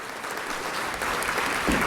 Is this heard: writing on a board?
no